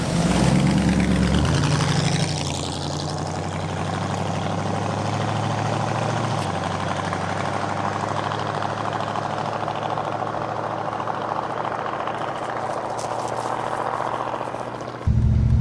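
A carbureted V8 Ford Mustang with a faulty carburetor idles and lugs with a steady, heavy low rumble. It has a louder rougher stretch near the start, then holds a constant drone throughout with no talk.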